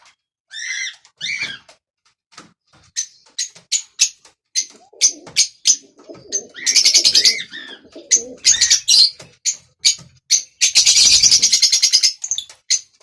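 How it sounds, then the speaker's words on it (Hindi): Pigeons in a loft, a busy mix of short chirps, coos and bursts of wing flutter, close and loud in irregular clusters with no talk. "तोते बड़े ज़बरदस्त बोल रहे हैं हमारे को देख कर ना"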